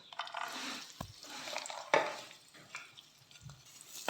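Cashews and black raisins frying in a pan, giving a soft, faint sizzle with light stirring scrapes and a couple of sharper clinks along the way.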